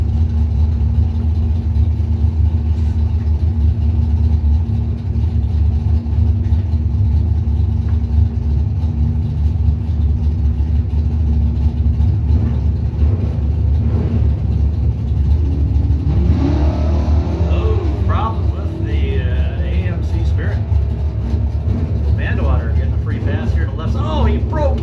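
Drag race cars at a TNT points event idle and rumble steadily, then launch with a rising roar of revving engines partway through, loud and continuous, with an announcer talking over it.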